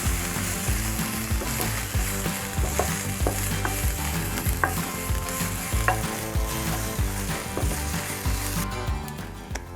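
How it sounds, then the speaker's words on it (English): Chili and garlic paste frying in hot oil for Thai basil fried rice, a loud dense sizzle with repeated metallic stirring scrapes and clinks throughout, close up and without talk. "Once your oil is hot, add our chili and garlic paste."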